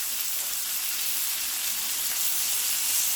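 A ribeye steak sizzles steadily in a pan as infused butter is spooned over it, a dense, even frying hiss running unbroken and fairly loud throughout, with no voices.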